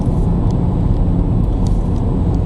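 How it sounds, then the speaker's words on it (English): A steady low roar of tyres on the road dominates inside a Nissan Leaf electric car, with a very faint, largely artificial high whistle from the electric motor drifting in and out above it. "all you hear really is tyre roar and a very, very faint whistle from the electric motor"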